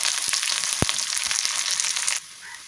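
Shallots and green chillies frying in hot oil for Kerala sambar, a steady close sizzle with small pops and one sharp clink, dropping quieter near the end.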